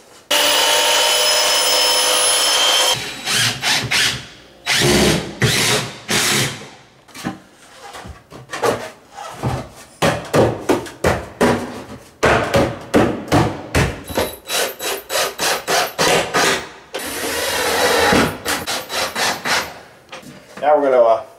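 Rough, rhythmic rasping and chopping strokes of a hand tool cutting down a wooden beam for a custom wine room, loud and close, coming in irregular bursts separated by short pauses.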